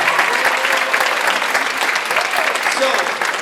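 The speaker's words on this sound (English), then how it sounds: "Round of applause for him as we can see him" Loud, close applause from a high school concert audience for the band director, a continuous dense clapping that holds steady throughout.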